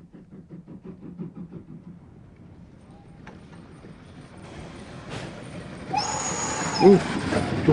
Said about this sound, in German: Mein Zug kommt.